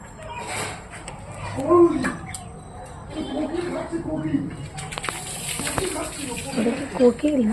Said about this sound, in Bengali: বিভিন্ন রকমের পাখি আসছে এখানে